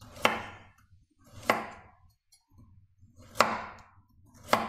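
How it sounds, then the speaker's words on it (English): A knife slices through pork into strips, making four crisp chopping strikes on a cutting board, each followed by a short drag, evenly spaced about a second apart and close up, with no talking. "You cut them into slices."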